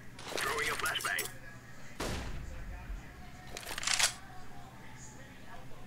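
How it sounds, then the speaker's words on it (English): A flashbang grenade is thrown in a competitive Counter-Strike style shooter match: a sharp broadband burst about two seconds in, amid other clicks and game effects, with faint voice chat nearby. "Throwing a flashbang."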